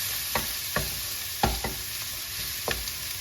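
Pork fried rice with egg stir-fried in a hot pan: steady sizzling with sharp spatula scrapes and clanks at irregular intervals, close and fairly loud, with no voices.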